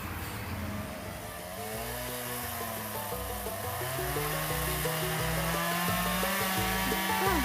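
Chainsaw cutting through tree stumps at a cottage build site, a steady loud buzzing engine whine that climbs in pitch and intensity as the chain bites into the wood, continuous throughout with no talking.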